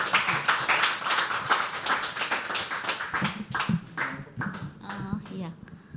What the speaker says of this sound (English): Can we start clapping for Smita? Keep clapping, keep clapping.